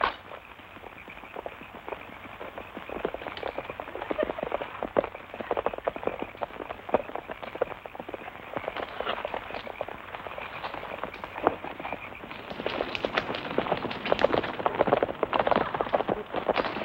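Several horses clip-clop steadily across ground, their hooves in a continuous overlapping rhythm at moderate distance, set in a 1940s Western.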